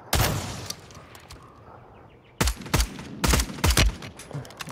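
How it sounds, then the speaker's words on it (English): Gunshots in a Foghorn Leghorn cartoon: one sharp shot at the start, then a quick cluster of five or six loud cracks, each with a short echoing tail, and no voices. "Now that was a warning shot, son."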